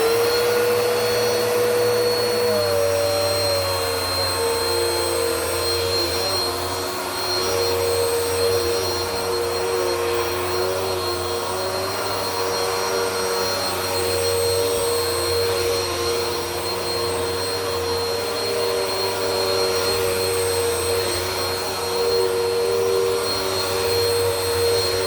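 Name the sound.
Bissell Power Force Helix vacuum cleaner running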